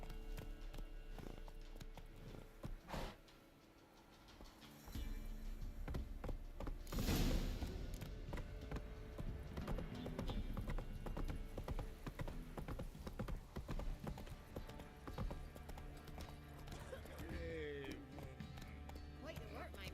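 Hooves of the horse Roach clip-clop in a quick galloping rhythm in the Witcher 3 video game, steady and fairly close, with a sharp burst midway and voices talking over the hoofbeats.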